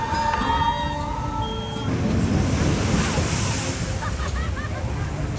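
Wind and rushing water roar on the Splash Mountain log flume ride at Magic Kingdom, a loud buffeting blast against the phone microphone, with faint screams and voices mixed underneath.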